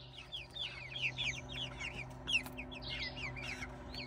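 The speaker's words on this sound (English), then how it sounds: "you chickens don't need to fight over the same cranberry" Chickens cluck and squabble over cranberries scattered on the ground, a busy run of short, overlapping calls close by over a low steady hum.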